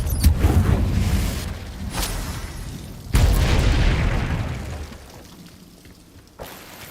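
Confringo blasting spell from Hogwarts Legacy, loud booming explosions bursting in quick succession with rumbling debris and a sizzling rain-like wash trailing off between blasts.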